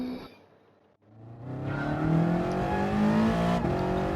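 A Toyota 86 in GoPro livery lapping the Nürburgring on race medium tyres in Gran Turismo, its engine revving up after a short lull and holding a strong, rising tone close and loud.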